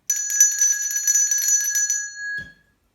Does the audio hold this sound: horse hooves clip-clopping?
no